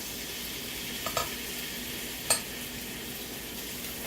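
Chicken pieces sizzling on an indoor electric grill, a soft even frying hiss with a couple of brief light clicks and taps from handling the food.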